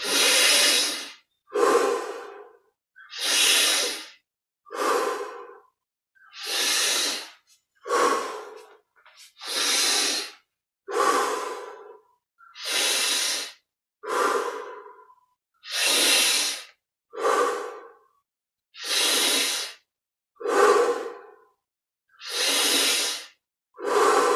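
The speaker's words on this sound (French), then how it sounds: "On laisse le corps respirer profondément." Slow, deep meditative breaths, each inhale and exhale a long airy rush, repeating in an even rhythm with short silent gaps, close and clear, no talking.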